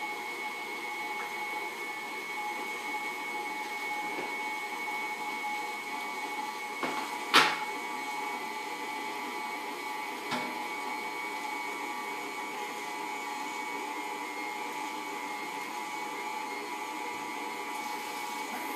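An electric mixer whirs steadily through a batter with flaxseed, a constant motorized hum held for the whole stretch with a couple of brief clanks, fairly quiet and with no talking.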